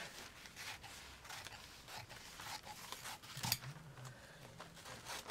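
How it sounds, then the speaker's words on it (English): Scissors cut across rice paper pictures in a run of quick, close snips and crisp paper rustles, fairly quiet and without talk. "So we'll just cut these across."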